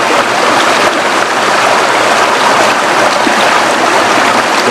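Water is poured into flour batter for Bandung-style spicy tofu fritters stuffed with bean sprouts, making a steady, close, continuous rushing trickle that runs unbroken throughout with no talking.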